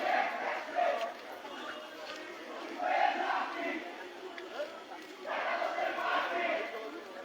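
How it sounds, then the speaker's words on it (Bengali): A political procession crowd chants in rhythmic swells while marching forward through Dhaka streets, voices blending into a loud, continuous roar that rises and falls in waves. "এখানে মিছিল নিয়ে সামনের দিকে যাচ্ছে"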